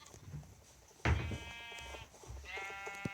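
Sheep bleat in a garden, with one loud, wavering bleat close by, then a second, quieter one a moment later over faint background noise.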